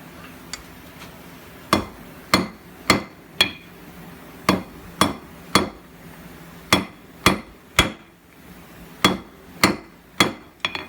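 A hammer strikes hot steel in uneven rhythmic groups of ringing blows while forging a cross peen key chain, clear and close, over a steady low roar of background noise.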